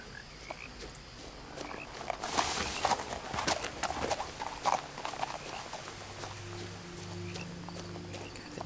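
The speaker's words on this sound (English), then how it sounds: "Deer running around here." Deer run through the woods in What Remains of Edith Finch, their hooves making a quiet cluster of soft, irregular thuds and rustles that peak midway. Faint ambient tones hold beneath them and fade in near the end.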